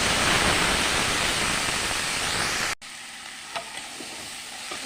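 Banana flower and potatoes fry in a pan with a loud, dense, steady sizzle that cuts off abruptly partway through, leaving a much quieter hiss with a few faint clicks.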